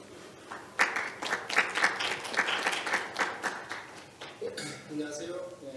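Audience at a peace forum session giving applause, a brief patter of scattered claps that fades into a speaker's voice at the end.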